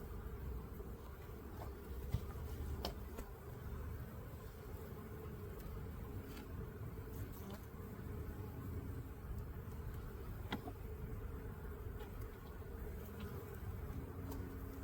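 Honeybees buzz in an opened, crowded spring hive, a dense, steady drone close by with individual bees zipping past now and then, with no talking.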